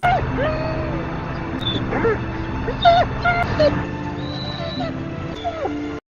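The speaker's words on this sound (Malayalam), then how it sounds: "ഇവിടെയുള്ള നായ്ക്കളെല്ലാം വളരെയധികം ശബ്ദമുണ്ടാക്കുന്നുണ്ട്" Several dogs whine and yelp nearby, high whimpers sliding up and down, mixed with a few short barks over a low background hum.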